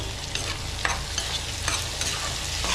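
Onions sautéing in a pan for a Tamil prawn thokku give off a steady, close sizzle. Regular scraping strokes of a stirring spoon cut through it about every second or so.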